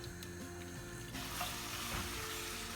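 Steady crackling sizzle of lamb pieces frying in hot oil, fairly quiet, with a brief clatter of stirring partway through.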